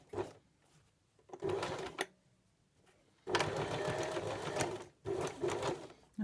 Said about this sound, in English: I'm going to stitch about 3mm away from the seam line here, and I'm stitching through the facing